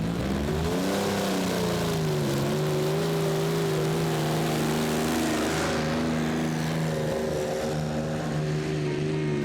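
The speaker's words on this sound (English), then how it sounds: "Il Tempo Gigante with Martin Mikkelsen. 2 Rover Meteor engines with a lot less power than the others." Il Tempo Gigante pulling tractor powered by two Rover Meteor engines roars down the track at a tractor-pulling event in Herning, Denmark, 4.5-ton class, a loud, steady, deep engine drone with a slight rise in pitch toward the end.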